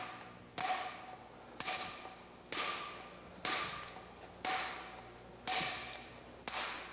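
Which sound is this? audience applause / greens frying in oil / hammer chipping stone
hammer chipping stone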